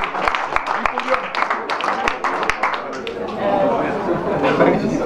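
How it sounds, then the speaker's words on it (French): A cycling team at the Circuit de Chalosse race is greeted by a crowd clapping and cheering outdoors, with sharp scattered claps at first that swell into denser applause, all mixed with steady crowd chatter and voices. "On peut les applaudir."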